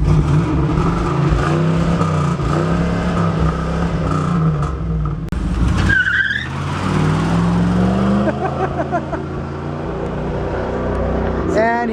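Loud engine rumbling and revving up close, surging through several throttle blips before pulling away, with a voice talking over it.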